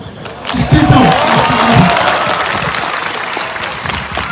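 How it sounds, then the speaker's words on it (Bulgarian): A football stadium crowd in Gabrovo applauds and cheers loudly, a broad roar of clapping swelling after a brief pause and then holding steady, with a few voices calling out nearby. "Още веднъж вашите бурни аплодисменти за Пупа и легендите на габровския футбол"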